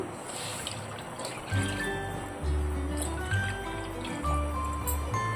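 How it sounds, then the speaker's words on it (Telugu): Half a litre of milk poured into a pot of cooked moong dal for jaggery payasam, a wet trickling, gurgling pour that comes in a few low surging pulses, close by with no talk over it. "నేను ఒక అర లీటర్ పాలు పోస్తున్నాను"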